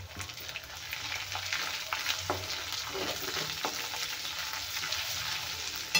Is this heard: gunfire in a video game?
no